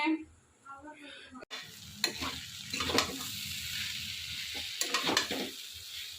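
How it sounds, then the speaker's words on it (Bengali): Finely chopped potato and pointed gourd frying in a pan, giving a steady hiss with occasional clinks and scrapes of stirring; a voice is heard briefly at the start. "তো এখানে আলু পটল দিয়ে কুচি কুচি করে ভাজছি"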